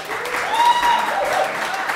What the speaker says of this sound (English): So a big round of applause to our NUS Delegates.